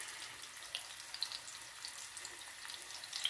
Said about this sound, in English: And you guys can hear that sizzling.